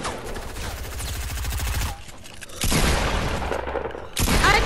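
Pump shotgun blasts in the video game Fortnite, several loud booming shots with dense gunfire-like bursts and sharp breaks between them, heard up close in a busy game mix without talk.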